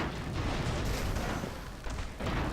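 Airship guns fire continuously in Airships: Conquer the Skies, a dense rumbling barrage of booms blending into a steady roar.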